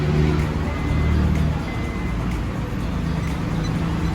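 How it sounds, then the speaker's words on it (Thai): Honda Accord G8 engine running after a push-button start, a loud, steady low rumble that holds evenly throughout with no break. "สังเกตว่าเครื่องยนต์จะสตาร์ทติดนะครับ"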